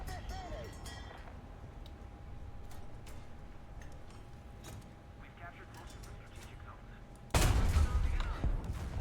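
A tank cannon fires in War Thunder, one sudden loud blast near the end after a stretch of quieter game ambience, with someone talking throughout.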